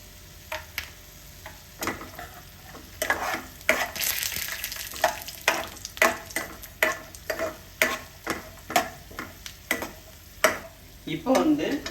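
Peanuts and broken cashews frying in a pan for aval upma, a faint sizzle under rapid rhythmic scraping and clicking strokes that grow busier and louder after the first few seconds.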